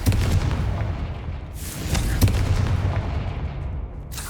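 Fiery Confringo blast spell from the video game Hogwarts Legacy: loud, rumbling explosive bursts with a sustained roar, sharper blasts flaring up about midway and again near the end, with no talking.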